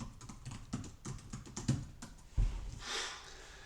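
A search is typed on a computer keyboard, with quick, light key taps in a close, quiet run. A louder thump falls near the end.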